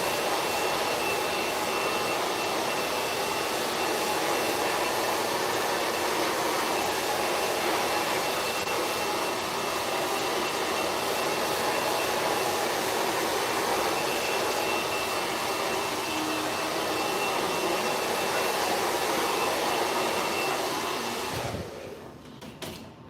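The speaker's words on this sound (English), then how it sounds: "that's just this little nozzle on the end, on the end of your blow dryer" A blow dryer fitted with a heat director nozzle runs continuously while drying natural hair, a loud steady airy roar that cuts off near the end.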